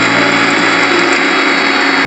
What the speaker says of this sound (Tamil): இப்போ ஜாரில் போட்டுக்கணுங்க. இப்போ இதை அரைக்க போகிறோங்க.